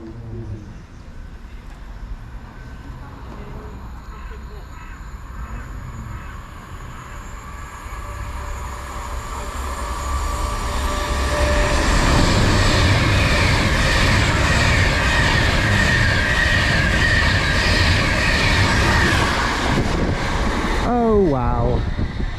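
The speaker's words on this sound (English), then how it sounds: "we've got Avanti West Coast service to London Euston" An Avanti West Coast Class 390 train bound for London Euston from Manchester Piccadilly passes through a station, building from a distant rumble to a loud, sustained rush of wheels and wind.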